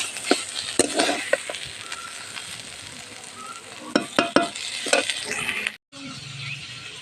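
Taro flowers fried crisp in a pan, with a steady close sizzle and bursts of stirring and scraping clinks, a brief gap near the end before the frying resumes.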